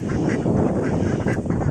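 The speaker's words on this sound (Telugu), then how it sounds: "ఇవన్నీ బాతులండి" A large flock of ducks crowds a village pond, with loud, continuous overlapping quacking heard close up and no voices.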